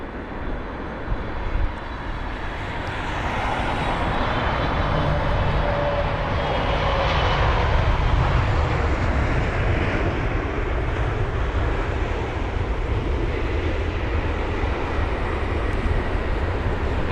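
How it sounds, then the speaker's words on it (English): A DHL Boeing 777 freighter lands at London Heathrow with a loud, sustained broadband jet roar that builds after the first few seconds and holds steady as it touches down, close and continuous with no talk. "And the DHL 777 freighter not disappointing with that touchdown"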